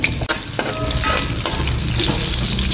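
Ginger, onion and garlic sauté in a hot pan for a beef nilaga, a steady close sizzle with a few scraping stirs and no talking.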